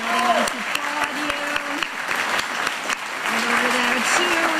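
A church congregation applauds its lay ministers at a December Lessons and Carols service, steady dense clapping filling the hall while a voice speaks over it.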